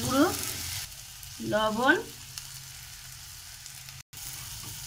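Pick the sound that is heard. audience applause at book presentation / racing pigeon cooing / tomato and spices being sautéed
tomato and spices being sautéed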